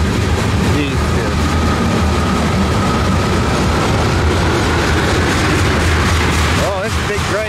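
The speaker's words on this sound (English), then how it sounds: "Oh, that's a big train." A big freight train with two locomotives up front and a distant-power unit rumbles past in Pennsylvania. A steady heavy roar of rolling cars runs throughout, with a horn-like tone near the end, and someone talks over it.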